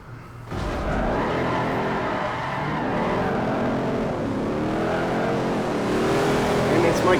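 Country Squire station wagon drifting in Forza Horizon 4 at Fujimi, engine roaring steadily with wavering tire squeal throughout, loud and close, under someone talking.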